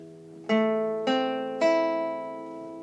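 Acoustic guitar picks out a bar of Beethoven's Fur Elise: three clear, close plucked notes evenly spaced, each ringing and slowly decaying into the next.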